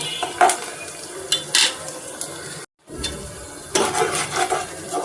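Whole spices (cinnamon, cardamom, cloves and bay leaf) lightly frying with onions in a pan for beef rezala give a steady close sizzle, broken by clattering stirs and one brief pause.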